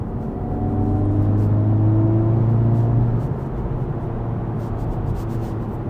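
A 2023 Honda Civic Type R engine revving under auto rev match, a loud, close droning hum that swells and holds steady for a few seconds, then drops to a lower, even drone.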